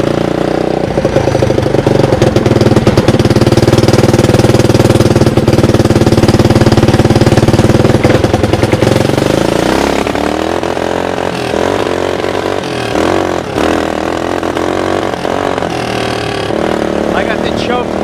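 A 1988 EZGO cart converted from electric to Honda engine power, driven in second gear on a lawn with the choke partly on, a loud, steady, close engine drone that roughens and drops after about ten seconds.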